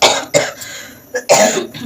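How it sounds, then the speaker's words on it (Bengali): A person coughs several times, sharp loud bursts close by, in two groups with a short pause between them and no talk. "সরি কাশি চলে এলো ওটাকে ইগনোর করো"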